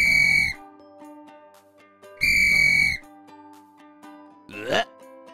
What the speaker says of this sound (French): Eh oui, c'est un sifflet.